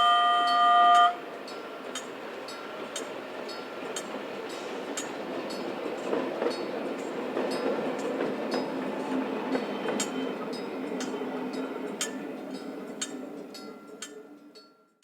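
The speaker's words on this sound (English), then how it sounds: "the classic railcar number A5 being led by unit number A11, heading towards the town over the combined road and rail bridge" A narrow gauge railcar pair, classic unit A5 led by A11, rumbles across a combined road and rail bridge toward town, a steady rolling drone with regular clicking wheel beats that fades away at the end.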